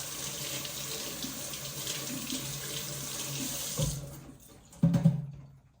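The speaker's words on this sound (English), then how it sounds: "the water is really cold coming out of the faucet right now" Water runs steadily from a faucet during handwashing, a close hiss that breaks off near the end, followed by a couple of clunks and splashes in the sink as the flow stops.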